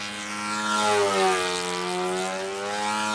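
A control line model airplane with an OS Max 52 four-stroke engine drones steadily as it circles, the pitch gently rising and falling as it passes, loud and continuous outdoors.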